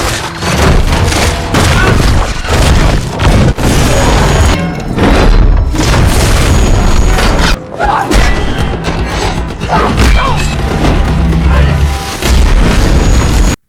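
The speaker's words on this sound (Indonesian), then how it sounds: "tiba-tiba dia dikejutkan dengan suara tembakan yang mengarah kepadanya." Loud, dense bursts of gunfire and heavy booming impacts from a film fight scene in rapid succession, nearly continuous, with a few brief pauses between volleys.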